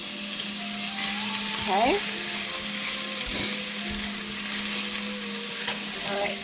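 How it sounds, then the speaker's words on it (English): A diced whole onion fries in butter in a pan for Japanese korokke, a steady close sizzle throughout with a few stirring scrapes, while a voice speaks briefly. "To that, we're going to add our diced whole onion."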